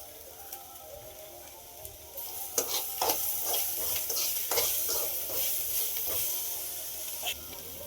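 Onions sautéing with crushed ginger-garlic paste make a soft sizzle that swells into louder, crackling frying as the paste goes in, with occasional stirring scrapes.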